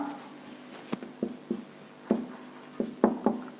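Point D being written on a board during a 10th grade maths lesson: a handful of short scratchy marker or chalk strokes, close and moderately loud, with no talk.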